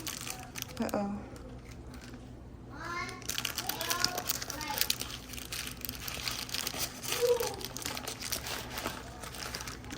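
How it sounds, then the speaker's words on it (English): Parchment paper crinkles and crumples in a home kitchen as it is laid over a dish of food with jalapeño, a near, busy rustling broken by brief tearing-like bursts, with children's voices faint in the background. "Alright, some parchment paper over the top."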